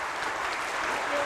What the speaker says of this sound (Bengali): আমাদের ক্রীড়া মন্ত্রীর জন্য একটা জোরে হাততালি হবে